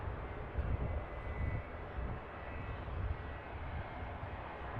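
Jet airliner engine at Manchester Airport, a steady broadband roar that swells and eases slightly, heard from a distance with no voices over it.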